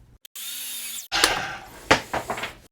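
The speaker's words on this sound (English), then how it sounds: "we'll go ahead and flip our 45 the opposite way and cut this next 45-degree mark" A miter saw cuts a 45-degree mark across a wooden piece for a small gift project: a steady whining run, a sudden stop, then a louder burst of rough cutting with sharp bursts as the blade bites, close and loud.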